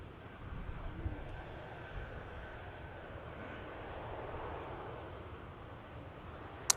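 Faint, steady jet engine rumble of an airliner landing at Manchester Airport, heard from a distance as a continuous low roar without speech.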